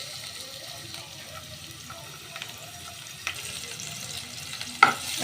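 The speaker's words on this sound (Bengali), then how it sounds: "এখন পেঁয়াজটাকে আমি ব্রাউন করে ভেজে নিব।" Chopped onion, green chilli and garlic fry in hot soybean oil, giving a soft, steady sizzle with occasional stirring scrapes and a sharp clink of a utensil near the end.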